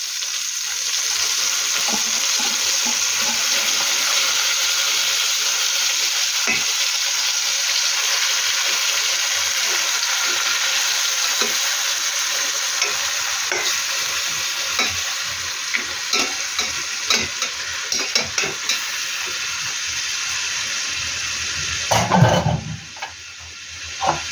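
Tomato paste and chopped tomato fry and get stirred in a pot for biryani, giving a loud, steady sizzle with scraping stir strokes, then a brief clatter near the end; no one speaks.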